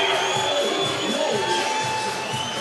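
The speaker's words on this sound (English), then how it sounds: "the crowd is expressing their displeasure" A crowd at a 3x3 basketball World Cup bronze medal game, Belgium vs France, booing a foul call: a dense, sustained roar of many voices, loud and unbroken, with a commentator talking over it.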